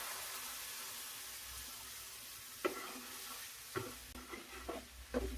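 Garlic, onion and tomato paste are stirred in a hot pan, a soft steady sizzle under a few sharp spoon scrapes and knocks that grow more frequent in the second half, close by with no talk.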